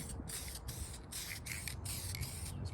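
Aerosol can of VHT high heat ceramic paint sprays a light dusting coat onto headers for an SBC 383 stroker, in a rapid series of short hissing bursts close up.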